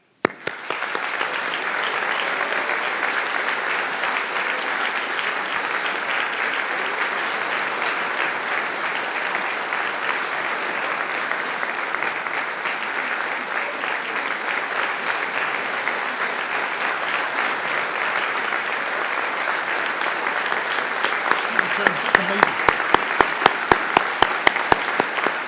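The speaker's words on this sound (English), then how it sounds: "to receive our appreciation and, of course, our applause" An audience at the Edinburgh Academy Senior School Exhibition applauds Mr. Alan Rennie, long sustained clapping filling the hall at steady strength, growing slightly more emphatic and rhythmic near the end.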